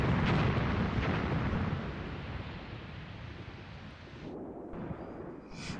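Mortar fire landing in the Graviteam Tactics: Mius Front war game, a deep rolling rumble of explosions that starts loud and slowly fades into a distant, roaring wash, with no voices.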